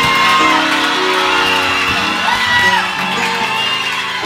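A crowd at a religious gathering shouts and cheers in victory, many voices whooping and calling together in a loud, sustained burst close by.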